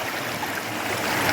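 A small creek burbles in a steady wash of flowing water, close and fairly loud, over a short moment with no voices.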